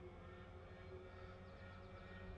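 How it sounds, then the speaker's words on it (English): Starter of a twin-engine fighter in a World War II air combat video game spooling up, a faint steady mechanical whine and hum that holds evenly with a slight rise. "I can hear the starter like spooling up"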